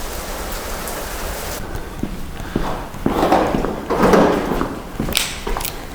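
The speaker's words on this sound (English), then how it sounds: "you can see the rain for real." Steady rain falls during an Alpine thunderstorm, a dense close patter on surfaces with swelling heavier gusts midway and scattered louder drops, with no talking.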